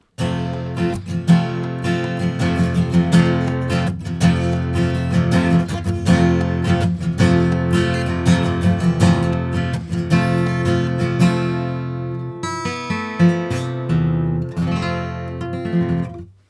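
Steady, continuous strumming of an F barre chord on guitar, rhythmic and fairly loud, changing slightly near the end before fading out.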